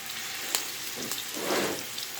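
Meat skewers frying in hot oil in a pan, a steady close sizzle with brief crackles and a swelling burst of spitting midway, no talking.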